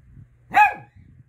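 A single short bark from a pet dog, close and fairly loud, rising sharply and falling away within a fraction of a second over a quiet room.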